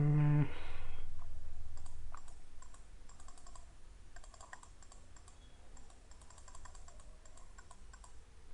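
Keys on a computer keyboard are typed in a soft, steady patter of clicks at close range, following a brief low tonal hum at the start, with no talk.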